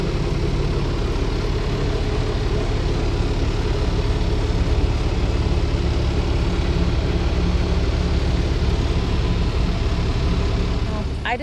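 A tractor engine runs steadily in a hay field with a rake hitched behind, a constant low, close drone that holds at the same level the whole way through and carries no speech.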